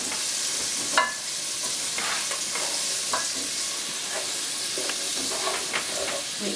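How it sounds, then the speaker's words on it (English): Pumpkin soup mixture being stirred in a hot pan, a continuous sizzle and hiss with repeated scraping strokes of a spoon against the pan, close and fairly loud. "if you mix that together for me, Geth."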